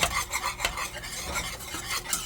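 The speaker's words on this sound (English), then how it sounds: "we're just going to whisk that in" Mustard being whisked into a dipping sauce, giving rapid rhythmic swishing and light metallic scraping of a whisk in a bowl, close and steady with no voices.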